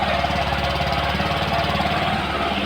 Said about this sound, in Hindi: हमारी बजाज डिस्कवर ये देखिए स्टार्ट हो चुकी है, और इसका साउंड देख लीजिए आप लोग